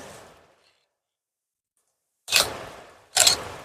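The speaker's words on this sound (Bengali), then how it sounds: "এই যে দেখেন আমি এটারও ছবি তুললাম।" A Canon 600D DSLR, lens cap on, fires its shutter twice in quiet surroundings, two sharp mechanical clicks about a second apart after a short faint noise at the start.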